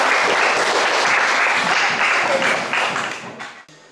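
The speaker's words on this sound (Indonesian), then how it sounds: "Tepuk tangan dulu dong buat Ayo Main." An audience at an event applauds, a dense, steady clatter of many hands that holds loud for about three seconds, then thins and fades out.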